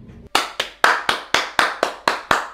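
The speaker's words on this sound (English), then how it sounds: "Round of applause, man." A single person claps eight sharp, evenly spaced times, close and loud, after a brief quiet moment.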